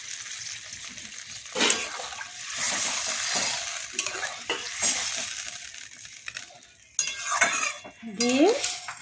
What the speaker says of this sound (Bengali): এরপর আমি এর মধ্যে একটু জল দিয়ে দেব। জলটা জাস্ট মাংসটা সেদ্ধ হওয়ার মতো দেবেন